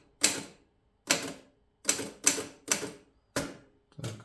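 Typing on a Mercedes 6 manual typewriter: seven sharp, separate keystrikes spaced irregularly about half a second apart, each a loud, close, percussive clack with a short decay, heard alone with no talk.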